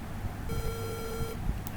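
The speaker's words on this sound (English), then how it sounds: "as I cross the 6-foot barrier, the buzzer glows." A DIY sensor circuit's buzzer sounds a steady electronic tone for about a second over a noisy background, then cuts off.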